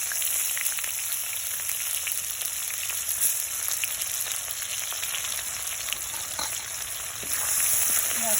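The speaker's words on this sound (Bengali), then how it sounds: "পেঁয়াজটা আমি ভালো করে ভেজে নেব।" Cumin and chopped onion fry in hot oil in a pan, giving a steady close sizzle and crackle with faint bubbling throughout, without any talking.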